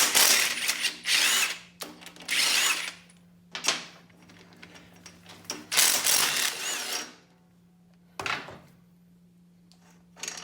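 A 14 mm wrench ratchets in short bursts against the shifter linkage assembly on a Honda VTX1300C motorcycle, clicking and clattering up close with quiet pauses between the bursts.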